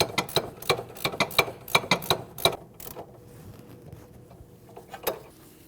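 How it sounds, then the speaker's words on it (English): A ratchet wrench tightens the nut on a lower sway bar link of a Honda CR-V, producing a rapid run of crisp clicks up close, then a pause and a single final click. "Install the nut. Put your wrench on your lower sway bar link."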